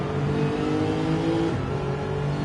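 A Lexus RC F race car engine hums steadily in a racing game, holding a sustained mid-rev drone with a pitch dip and recovery around halfway, loud and close with no talk.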